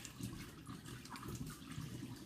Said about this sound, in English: You almost got to learn how to do a slow pour on a carboy.